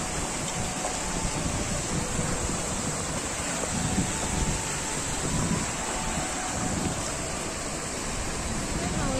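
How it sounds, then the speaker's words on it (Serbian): A waterfall at Ilomski falls among rocks and forest, a steady broadband roar of rushing water heard up close and continuous, mixed with wind buffeting the microphone. "Tu je taj, znači, prvi vodopad."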